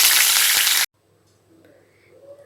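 Curry leaves hit hot oil while making a Tamil mixture snack, producing a loud, intense crackling sizzle that cuts off abruptly under a second in, followed by a quiet background.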